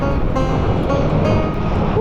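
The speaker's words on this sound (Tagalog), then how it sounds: "Lakas ng hangin." Strong wind at Simala Shrine, Cebu, roars steadily across the microphone, a loud constant rumble with no pauses.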